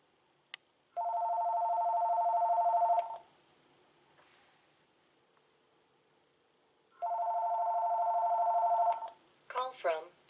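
An AT&T cordless home phone rings for an incoming cell phone call. Two long electronic trill bursts come a few seconds apart with quiet between them, and a voice starts speaking right after the second ring.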